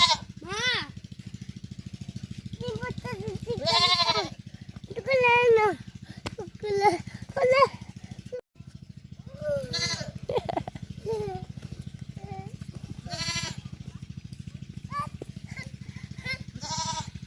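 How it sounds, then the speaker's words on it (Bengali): A baby goat bleats repeatedly in short wavering cries, close and clear, with someone talking between the calls over a constant low hum. "ছাগল কান্না করতেছে"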